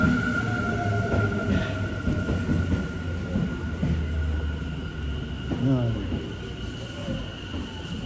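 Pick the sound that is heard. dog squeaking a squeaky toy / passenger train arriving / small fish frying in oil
passenger train arriving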